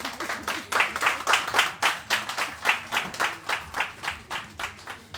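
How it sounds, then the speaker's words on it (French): A small audience at a mothers' talk show gives a short round of applause, a steady run of rhythmic claps at moderate distance, heard alone without talk. "Un petit applaudissement pour Aude."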